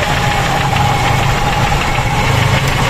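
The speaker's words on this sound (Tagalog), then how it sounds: "Ayan ang makina. Tahimik. Gasoline engine." A gasoline engine idles throughout, a low even rumble with a faint rhythmic knock and a thin mechanical whine, close and constant.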